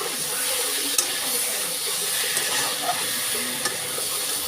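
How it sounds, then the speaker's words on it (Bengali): Boiled eggs and potatoes being sautéed with spices in a pan, a continuous moderate sizzle and hiss with a few light spoon taps as the mixture is stirred. "আলু আর ডিম সেদ্ধটাকে ভালো করে কষিয়ে নিতে হবে মশলার সাথে"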